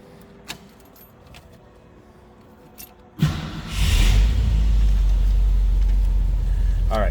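A 1959 Ford Thunderbird convertible's engine turns over and catches after a few key jingles, then settles into a steady, loud, close rumbling idle.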